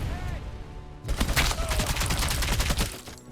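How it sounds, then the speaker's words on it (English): Machine gun fire in a video game starts after a brief lull and chatters in a rapid, loud burst for about two seconds before cutting off, with a voice briefly present. "Oh, I got a machine gun."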